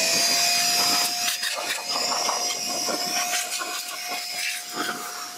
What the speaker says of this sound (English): Still, I did a quick clean with a small compressor.